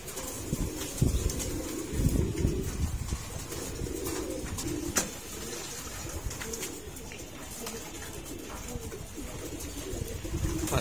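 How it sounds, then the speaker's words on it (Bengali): Racing pigeons come down to bathe in a water dish, with soft cooing and brief bursts of flapping wings, moderately close under steady outdoor breeze and rustling. "এই যে বাম থেকে একটা কবুতর নেমে আসলো"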